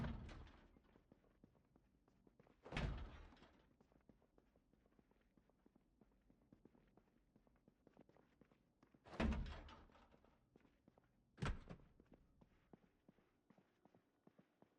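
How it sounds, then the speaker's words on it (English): Doors are knocked on in the zombie survival game Project Zomboid, four sharp isolated thumps spaced seconds apart against a quiet background, with no one talking. "All the doors we can't see through, make sure we knock on them."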